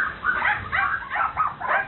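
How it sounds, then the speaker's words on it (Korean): Dogs at a puppy mill whimper and yip in a close, continuous run of high, wavering whines and short cries, with no talking over them. "워낙 개가 많잖아요."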